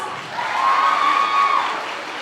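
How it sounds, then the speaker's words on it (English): An audience at a Rajahmundry movie song launch claps together in a short, steady burst of applause, a dense wash of many hands heard close and alone for about two seconds. "give yourself a big round of applause"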